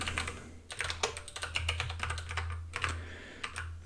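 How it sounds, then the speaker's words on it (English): Code being typed on a computer keyboard during a Rust live coding session, with a steady run of close, crisp key clicks in uneven bursts over a low hum and no talking. "let's just type it out"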